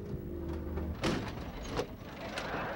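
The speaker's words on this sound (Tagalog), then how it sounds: "huwag mo basta-basta isasarang malakas yung pintuan eh!" A door slams shut in a Filipino comedy scene, with a couple of sharp impacts standing out briefly over a low background hum.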